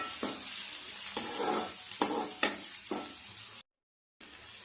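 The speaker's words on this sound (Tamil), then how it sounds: "நல்லா எண்ணெயில் வேகுது" Onions frying in oil for a village-style fish curry, a steady bright sizzle broken by several scraping stirs, close and fairly loud, with a brief silent gap near the end.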